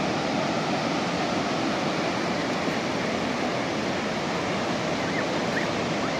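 Ocean surf at a beach where surfers are out rushes in a continuous, dense roar of breaking waves, steady and fairly loud throughout with no pauses.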